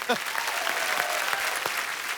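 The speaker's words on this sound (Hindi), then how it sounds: "जोरदार तालियां।" An audience breaks into loud, dense clapping that keeps going steadily throughout, with a few voices mixed into the crowd.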